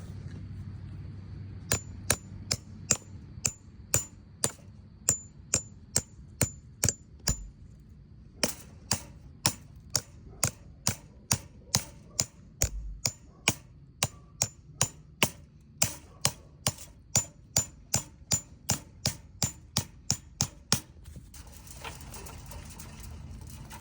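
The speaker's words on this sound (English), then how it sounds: "I'm gonna hammer that down right now." Repeated hammer strikes drive a candy cane fastener down on a wooden chicken coop, a long steady series of sharp close knocks with a brief pause partway through.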